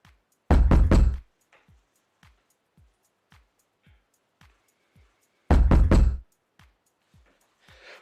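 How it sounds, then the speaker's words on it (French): Two quick bursts of three or four heavy knocks land on a door, about five seconds apart, loud and close, with faint soft taps in the quiet between them. "il tape à la porte."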